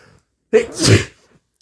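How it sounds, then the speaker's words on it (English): A single loud sneeze from someone who is sick, sharp and close, with near silence before and after. "Sorry for the sneezing, I'm a little sick."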